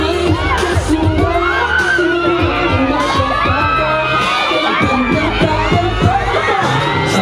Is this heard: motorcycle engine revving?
no